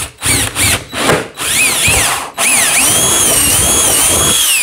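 A power drill bores a hole in a 5 gallon plastic bucket lid: a few short loud whirring bursts with pauses, then a longer continuous high-pitched whine as the bit cuts through the plastic.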